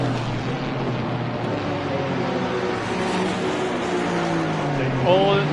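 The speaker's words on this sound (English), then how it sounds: "Looks like we're riding in the purple Aston Martin Honda GT4" A purple Aston Martin GT4 race car drones loudly through gears at Bathurst in Assetto Corsa Competizione, its engine pitch rising and falling, with a brief higher rev near the end and other cars blending in.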